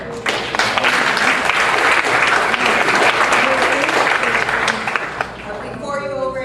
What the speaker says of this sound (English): Let's have a last round of applause.